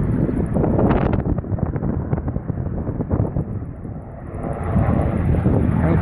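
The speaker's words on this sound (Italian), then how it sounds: "contino via vai di mezzi aerei" Canadair firefighting aircraft passing over a wildfire, a loud continuous engine roar mixed with heavy wind buffeting on the microphone, swelling, dipping midway, then building again.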